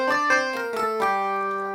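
Dry Taishogoto sample instrument, a Japanese keyed string instrument, plucks a few quick bright metallic notes that settle into a sustained buzzing drone, close and clear with no effects or voices.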